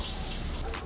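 Steady running water from a tap, loud and close, splashes continuously through the moment a little water is added to rice powder cleanser, with a slight change near the end.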